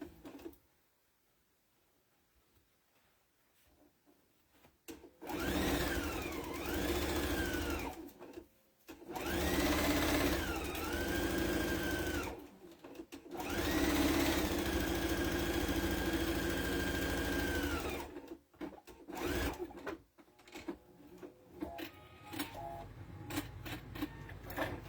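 A sewing machine runs in three long bursts, sewing the half-inch bottom seam of a fabric Easter basket, with short pauses between runs and quiet handling noise before and after.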